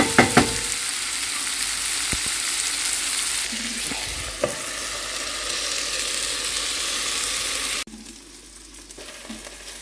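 Sliced zucchini sizzles and fries steadily in a hot pan, a loud continuous crackle with a few stirring clatters, which drops abruptly quieter near the end.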